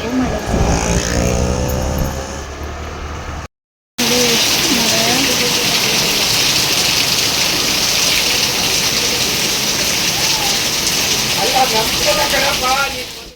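Rain falls with a steady, dense hiss that is loud and continuous, broken by a short silent cut early on, while people talk over it.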